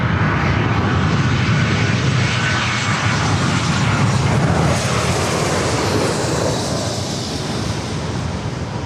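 An Air Canada jet airliner takes off from runway 24 left at LAX, its engines a loud, steady broadband roar that holds throughout and eases only slightly near the end.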